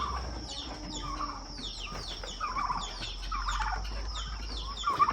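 On a small farm in Ghana, fowl call repeatedly at a moderate distance, with bursts of turkey gobbling and clucking over a low steady hum.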